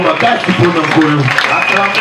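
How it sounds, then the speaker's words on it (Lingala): A church congregation claps loudly in praise of the Lord, keeping up steady applause for the whole stretch while voices and other sound carry on over it. "Acclamez très fort pour le Seigneur."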